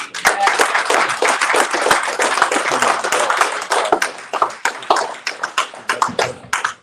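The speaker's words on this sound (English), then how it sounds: "I would like to not only applaud the young men that actually have become Dukes, but applaud the parents" An audience claps for newly inducted Duke of Phi young men and their parents at an induction ceremony, a close, dense round of applause that thins toward the end into scattered individual claps.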